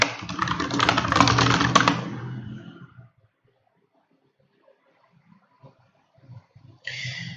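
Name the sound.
typing keywords on a computer keyboard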